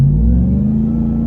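A supercharged RAM TRX pickup truck engine gives a brief, loud, deep rumble as the throttle is first tipped in, heard up close and alone.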